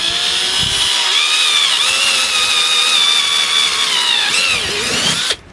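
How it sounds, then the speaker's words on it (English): A power drill bores holes for exhaust hangers on a Mazda Miata, a loud, close, steady whine with slowly wavering pitch that runs almost the whole time before cutting off abruptly. "And we are now drilling the holes where they go."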